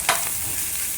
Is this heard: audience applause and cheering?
no